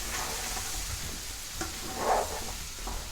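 Lemon pieces stirred with nigella seeds, mustard seeds and cumin in a hot, oily pan give a steady close sizzle, with occasional spoon scrapes and one brief louder stir near the end.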